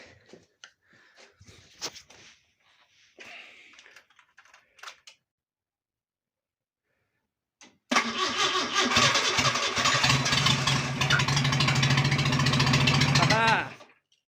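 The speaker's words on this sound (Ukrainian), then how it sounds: "Ну, десь приблизно 2 роки мотор не запускався." Homemade tracked mini tractor engine, not run for about two years, starts on its first attempt after scattered clicks and a quiet pause, then roars loud and steady for several seconds before cutting off.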